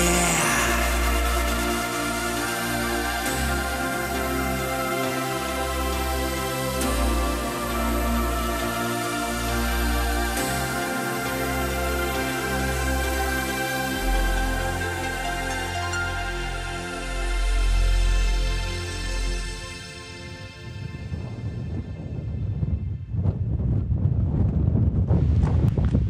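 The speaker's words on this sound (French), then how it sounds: "il y a des puissantes rafales de vent dans le cirque" Strong wind gusts roar through the Cirque de l'Infernet in the hills, buffeting the microphone with loud, continuous rumbling that swells and eases, with no voices.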